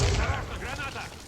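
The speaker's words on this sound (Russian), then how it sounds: "Кидаю гранату." A grenade explodes in a team video game, a loud low boom bursting at the start and rumbling under overlapping chatter from players.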